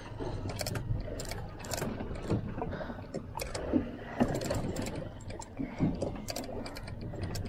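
Fishing reel drag clicks in quick irregular bursts while an angler fights an ahi tuna from a boat, the ratcheting fairly close over a steady background of water and engine hum.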